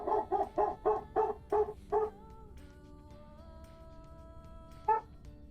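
A dog fires off a rapid, evenly spaced string of about seven barks at close range, then falls quiet before one last bark a few seconds later. There is a faint hum in the background.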